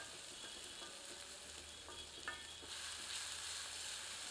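Onions fry over medium heat in a pan for a matar paneer curry, giving a faint, steady sizzle and crackle throughout with a few soft clinks from stirring and no voices.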